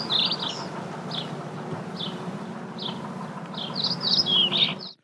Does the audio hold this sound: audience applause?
no